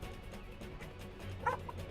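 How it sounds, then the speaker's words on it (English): Dog yips and whimpers close by in a room, short bursts with a sharper bark near the middle, over low background game audio. "Dog's like, no, you're not allowed to celebrate."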